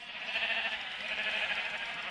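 Sheep bleating in the Minecraft video game, a steady, sustained nasal bleat that holds at an even level from start to finish.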